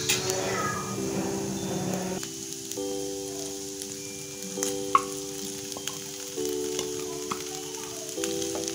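Chicken pieces sizzle steadily in a hot pan with lightly browned onions, scraped and stirred at intervals, a constant frying hiss beneath steady background music.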